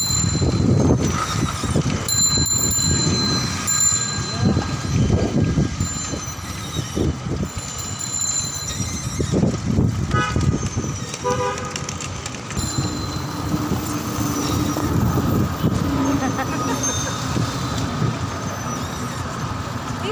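Steady street-traffic noise from a rickshaw ride through Dhaka, with continuous rumbling engines and wheels, occasional beeps and brief tonal horn-like sounds running throughout at moderate loudness.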